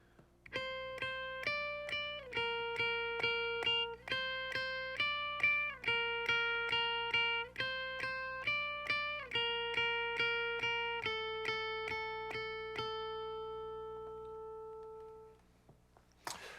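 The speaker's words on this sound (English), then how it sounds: "I'm going to show you this guitar part really slow and without effects" A clean electric guitar plucks a slow, steady line of single notes, each ringing briefly before the next, fairly quiet with no other sounds.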